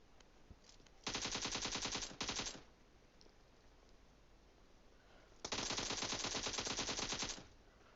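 Automatic gunfire in the mobile battle royale game PUBG Mobile comes in two long, rapid bursts, each lasting a second or more, loud and sharply clipped, with quieter game ambience between them.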